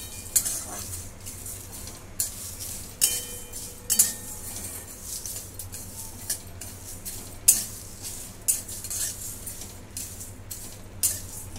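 Whole spices including green cardamom, black cardamom and a little nutmeg being dry-roasted and stirred in a pan for Saoji chicken masala, with repeated scraping clinks of a spoon against metal over a steady low hum, no talk.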